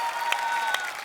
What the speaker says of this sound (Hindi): सिद्धू जी के लिए जोरदार तालियां